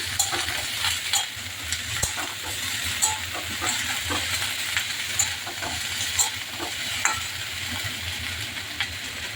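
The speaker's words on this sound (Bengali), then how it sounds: "ভালোভাবে একটু নেড়ে চেড়ে দিচ্ছি" Noodles with cabbage being stirred and tossed in a hot pan, a steady sizzling hiss under repeated scraping stir strokes, close and continuous, no talking.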